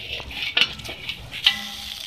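Sweet potato sizzles on a tawa griddle over low heat, with soft crackling and a couple of sharp scraping clinks as it is flipped, fairly quiet and close.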